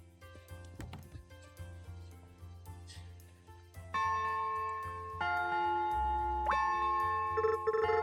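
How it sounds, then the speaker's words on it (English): A church bell rings in a small community bell tower, clear sustained tones starting after a few seconds and struck again twice, each ring layering over the lingering hum, loud and close with no talk. "I haven't heard the church bell ring for years."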